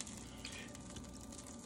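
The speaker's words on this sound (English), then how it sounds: "In there sizzling right there on the thing, right?" Steady sizzling of a tuna melt frying in a pan, a continuous close hiss without talk.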